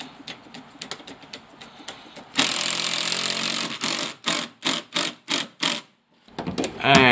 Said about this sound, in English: I'll tighten this clamp before I put the second screw in